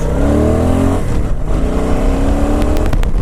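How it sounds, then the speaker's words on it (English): A Suzuki Boulevard S83's big-displacement twin-cylinder engine with stock exhaust and intake revs up, its deep rumble rising in pitch, then eases off before climbing again, close by and alone. "It's nice to have a small framed bike that's got a big displacement twin."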